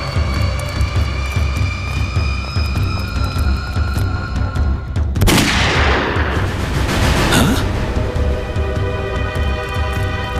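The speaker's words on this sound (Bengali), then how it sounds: "গুলি চলার শব্দ।" A sudden loud burst of gunfire in a tense crime drama scene cuts in midway, with broadband crackle over a steady low rumble and tonal music bed, then trails off as the background continues.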